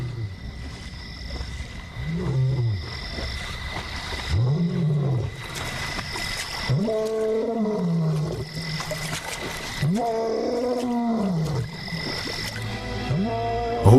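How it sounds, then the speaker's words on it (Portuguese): A lion roars repeatedly in the wild, a series of deep, loud, sweeping bellows spaced a couple of seconds apart over steady background noise. "Rugir sem parar é arriscado."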